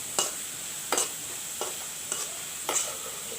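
Potatoes fry in a pan, a quiet steady sizzle broken by five evenly spaced scraping stirs of a utensil, close and without voices.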